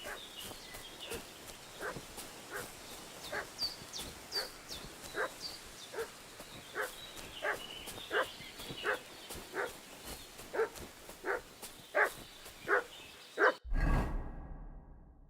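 A dog in the medieval game Kingdom Come Deliverance II barks repeatedly and steadily, at a moderate distance, for many seconds, ending in a burst of louder noise.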